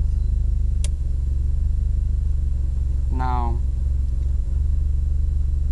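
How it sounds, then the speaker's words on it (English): A Talon car idles with a steady low engine rumble throughout, joined by a brief spoken word and a few faint clicks. "Turn on the car, and I'll turn on the switch for the fans."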